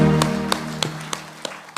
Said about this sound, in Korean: 박수의 영광.